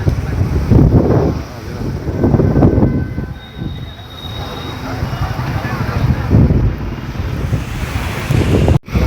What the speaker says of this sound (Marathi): पुन्हा वारा उठतो